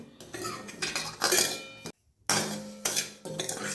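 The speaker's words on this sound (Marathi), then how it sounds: "उपम्यासाठी आपण रवा भाजून घेऊया." Semolina dry-roasting in a pan while being stirred: repeated close metallic scraping and clinking of a spoon against the pan in uneven bursts, with one brief pause midway and no talking.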